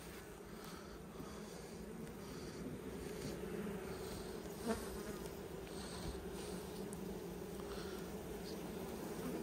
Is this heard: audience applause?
no